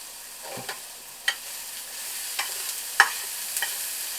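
Pork filling seasoned with adobo is stirred in a pan, giving a few separate scraping strokes of a utensil over a faint, steady background sizzle.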